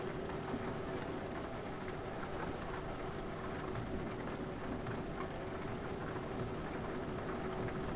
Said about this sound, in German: Dann müssen wir aus dem Regen rauskommen